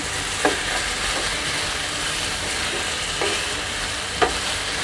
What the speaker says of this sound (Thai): ผัดผัดไปนะคะ น้ำมันจากคุณเชียงก็จะเริ่มออกมานะคะ นะคะ ใช้ไฟกลางนะคะ